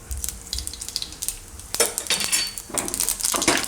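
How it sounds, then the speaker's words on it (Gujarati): Mustard seeds dropped into hot oil in a pan while cooking Gujarati handvo give a busy crackling sizzle, with spluttering pops and a few metallic clinks of utensil against pan, close and fairly loud. "તો હવે આપણે તેલ ગરમ થઈ ગયું છે, એમાં આપણે થોડીક રાઈ નાખીશું."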